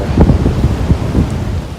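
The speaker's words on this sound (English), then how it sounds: "it's raining pretty hard" Heavy rain with thunder on the Appalachian Trail, a loud rumbling wash with low booming swells over a constant downpour hiss, close and dense.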